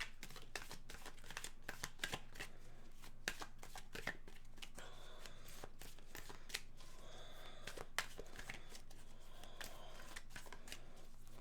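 Tarot cards are handled and shuffled in a steady run of crisp riffling and flicking, close and fairly quiet, with no talk over it.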